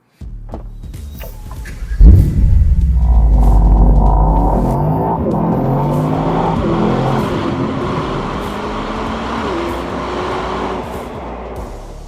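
A Mercedes AMG GT 63 Pro fires up with a sharp bark, then settles into a loud, deep engine drone as revs rise and hold, running near and strong for about ten seconds.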